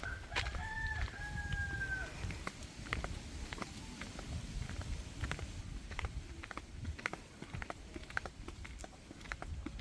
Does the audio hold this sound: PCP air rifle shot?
no